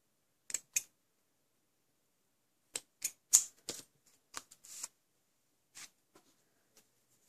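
Scissors snip the ribbon ends on a handmade Stampin' Up! framed card, giving a few sharp, close clicks in two short groups with quiet pauses between them.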